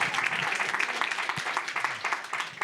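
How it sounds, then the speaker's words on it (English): An audience at a Sundance festival lounge event breaks into steady applause, a dense patter of many hands clapping at moderate volume for a few seconds, with faint voices underneath. "give her a round of applause"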